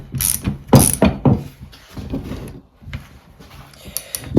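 A ratchet socket wrench tightens a nut on a 1960 Bolens Ride-a-matic's Versa-matic drive, giving close, uneven bursts of rapid clicking with short pauses between strokes.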